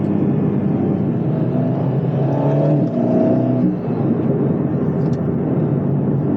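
An Alpine A110 R sports car on Cup 2 tyres and carbon wheels accelerates hard, its engine note heard from inside as a loud, steady drone that rises in pitch through the gears.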